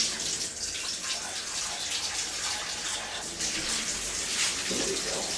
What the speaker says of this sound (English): Give the pan a wash.